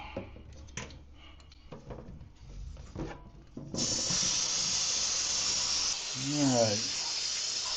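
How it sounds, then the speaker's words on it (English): Water from a running tap rinses a boiled deer skull being cleaned for a European mount, a steady loud hiss starting midway after some handling clatter and brief talk, with a gurgling swell near the end. "We're going to give it a quick rinse down and see"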